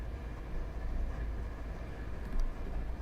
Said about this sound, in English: might get a little loud here with that engine